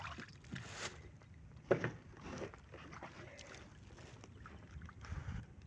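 A small wooden banca moves across open water, with a wash of wind noise and water, a few bumps and knocks, and faint distant sounds. No one speaks.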